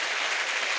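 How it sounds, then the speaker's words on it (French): An audience clapping for Jesus at a salvation, healing and deliverance crusade in Bafoussam, a dense, steady roar of many hands throughout. "Let's clap for Jesus."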